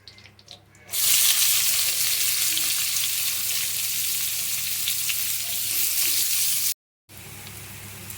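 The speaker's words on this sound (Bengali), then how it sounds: "তো দেখো পেঁয়াজটা একটু ভাজা ভাজা হয়ে গেছে" Loud, steady sizzling of onions frying in a pan, starting abruptly after a quiet moment and continuing with a brief cut near the end.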